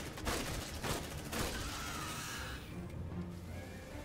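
Suppressive gunfire rattles in the sci-fi game Aliens Dark Descent, quick bursts of automatic shots at moderate distance in the first half, then fading into quieter ambient rumble.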